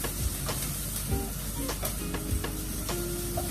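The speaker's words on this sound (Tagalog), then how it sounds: "Gisa lang saglit yung onion." Onion sautéing in a pan for chicken Bicol Express gives a steady close sizzle, broken by the sharp scrapes and taps of a spatula stirring it.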